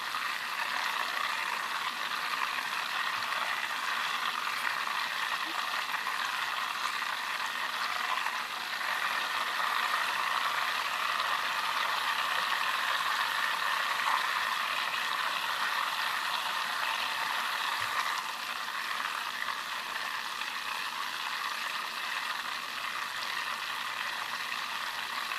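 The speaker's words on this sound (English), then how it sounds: "I'm going to keep stirring" Butter browning in a pan while being stirred, a steady, even sizzle and crackle of frying fat that continues unbroken for the whole stretch with faint scraping, no voices.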